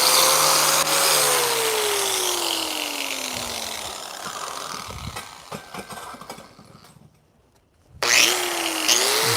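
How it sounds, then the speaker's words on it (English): An angle grinder grinds down a weld with a loud, harsh whine whose pitch sags as it bites into the metal, then cuts out briefly before spinning back up near the end. "A little bit more grinding,"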